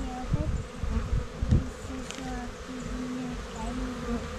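Bees buzz close by in a steady droning hum, with low knocks and rustles underneath.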